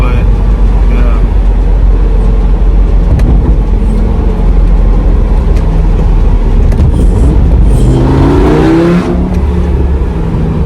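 An Audi car drives up from behind amid loud, continuous road and engine noise, with the engine rising and revving toward the end; a person talks over it.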